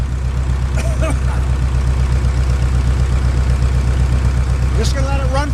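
Steady, even diesel idle from an International Harvester WD-9 tractor, its low rhythmic chug running smoothly and continuously at close range, with a few faint squeaks over the top.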